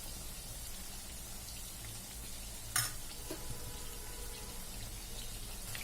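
Chicken pakoda deep-frying in oil gives a faint, steady crackling sizzle throughout, with one brief sharper clink or pop near the middle and no talking.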